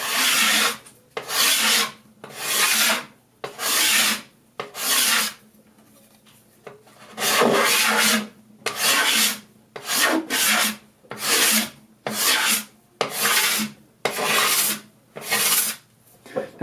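A card scraper drawn across a wooden surface with a fine burr, lifting thin shavings in a steady series of about a dozen rasping strokes, each a second or so long, close and fairly loud with short pauses between.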